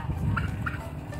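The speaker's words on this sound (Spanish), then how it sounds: "Miren, estos son chumpipes." Turkeys on a farm let out two quick gobbling calls close by, short and warbling, over a low background rumble with no talking.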